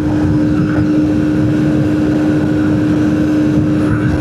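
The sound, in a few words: strong wind while riding motorcycle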